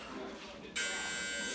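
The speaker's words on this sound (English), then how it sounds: "You're not waiting for that buzzer to go." An interval timer buzzer in a cardio kickboxing class signals the switch of sides, cutting in sharply partway through and holding a steady electronic buzz under a speaking voice.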